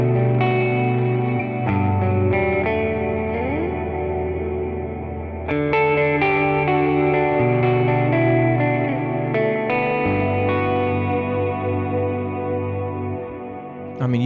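Electric guitar through a modeled 5E3 Deluxe amp with dark ambient echo, chorus and reverb effects, sustained chords and swelling notes washing together in a steady, moody bed.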